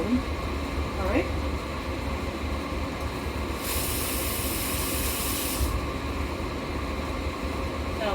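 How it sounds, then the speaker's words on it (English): Water runs from a kitchen tap as cheese is rinsed off hands while a lasagna is being assembled, a steady broadband hiss swelling louder for about two seconds in the middle over a constant low background. "Now that I've washed the cheese off my hands"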